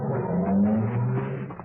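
A car pulls away in a radio drama sound effect, its engine humming with a rising, muffled note for under two seconds, heard alone with no voices.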